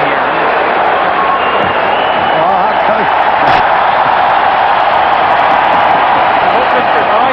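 Loud hockey arena crowd roaring in a sustained wash of noise after a fight between tired heavyweights during a 1993 Winnipeg Jets at Toronto Maple Leafs game, with a commentator talking over it.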